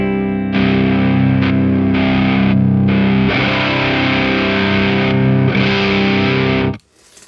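An electric guitar plays through a BOSS JB-2 Angry Driver overdrive pedal into the clean channel of an amp, giving loud, sustained distorted chords that change every second or so before cutting off sharply.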